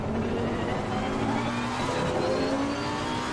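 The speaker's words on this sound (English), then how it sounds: "You can hear that TC pulsing." A GT race car in the Assetto Corsa Competizione racing game, its engine droning loud and steady in close cockpit perspective with traction control pulsing, no speech over it.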